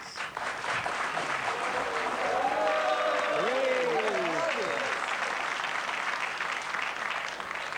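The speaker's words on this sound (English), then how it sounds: "You got a big cheer there, Louise." A television game show studio audience breaks into sustained applause and cheering, loud and steady throughout, with a voice rising briefly over the clapping near the middle.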